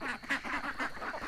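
Ducks quack rapidly and continuously nearby, a busy chorus of nasal calls with no talking.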